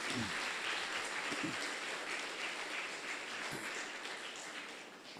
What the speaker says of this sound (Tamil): அவர்களுக்காக நீங்கள் ஒரு கைதட்டல் கொடுக்கலாம்.